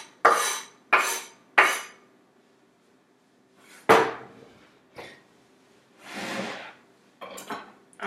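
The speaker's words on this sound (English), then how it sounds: "we're going to slide it into our mixing bowl" Chopped fresh ingredients scraped and slid into a mixing bowl, with several sharp clattering scrapes followed by softer brushing sounds and quiet pauses in between.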